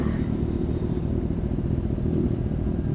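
A motorcycle being ridden: a steady, loud, low engine rumble with wind noise, continuous throughout, with no talk.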